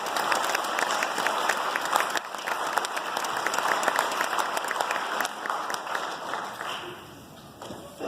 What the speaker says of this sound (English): So let's give our coaches a big round of applause.